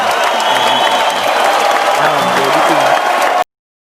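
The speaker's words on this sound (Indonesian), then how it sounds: "Nanti kasih efek tepuk tangan Gan" Crowd applause, probably an effect added in editing, forms a loud, even wash that cuts off abruptly near the end while a voice talks underneath.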